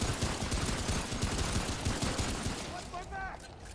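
Minigun fire in the Remnant: From the Ashes shooter, a dense, continuous rapid rattle of shots filling the whole stretch, loud and close, easing slightly toward the end with a faint voice over it.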